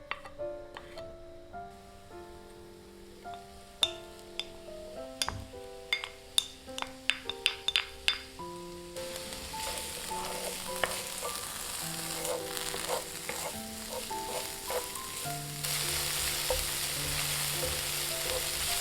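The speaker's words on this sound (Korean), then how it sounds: "식용유를 두른 팬에 파와 베이컨을 넣고 볶아주세요" Green onion and bacon stir-frying in an oil-coated pan: light clinks first, then a steady, bright sizzle takes over about halfway and continues loudly to the end, with music playing throughout.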